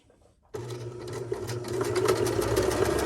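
A domestic sewing machine starts abruptly and runs steadily, stitching a French seam on fabric with a continuous close whirring hum that builds slightly in speed, heard alone.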